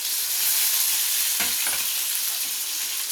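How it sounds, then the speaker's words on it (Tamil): Onions and fennel seeds sautéing in hot oil, a steady close broadband sizzle with a few soft stirring scrapes partway through, no voices. "இது நல்லா பொன்னிறமாகிற வரையும் நல்லா வதக்கி எடுத்துக்கணும்"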